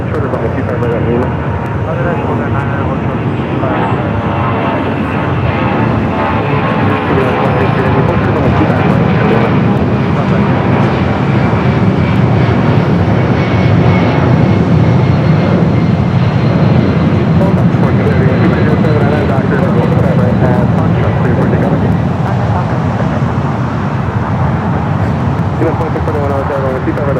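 An Air Tahiti Nui airliner taxis at LAX, its engines a steady, broad roar that holds loud and unbroken throughout, with radio chatter and other airport noise mixed underneath.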